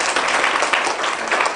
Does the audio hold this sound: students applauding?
yes